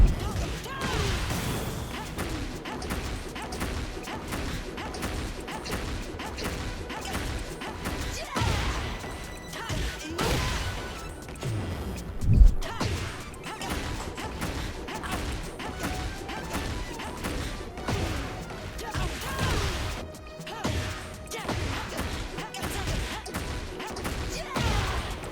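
Tekken 8 fighting game combo after a heat launcher, a dense stream of punchy hit impacts, whooshes and crashes layered over game music, with one heavy thud standing out midway.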